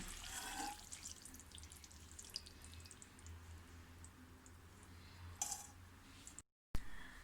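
Sumac water trickles and splashes through a sieve into a bowl in a home kitchen, a soft steady pour with a couple of brief louder splashes, fairly faint and alone.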